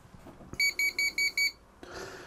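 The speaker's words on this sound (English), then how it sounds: "you'll probably hear it beep on startup" A ZFC39 PWM fan controller's buzzer gives five short, evenly spaced electronic beeps at startup. The beeps are close and clear over faint background noise.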